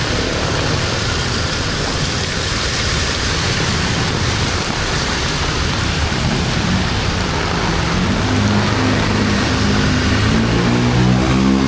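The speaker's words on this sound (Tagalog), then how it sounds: "Ang lakas ng ulan." Heavy rain pours down steadily on a flooded Manila street, a dense loud hiss throughout, with a low rumble building toward the end.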